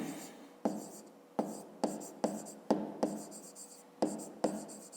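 Pen writing a math solution on paper, a series of close, quiet scratchy strokes with sharp onsets, about eight to nine separate strokes in a loose rhythm.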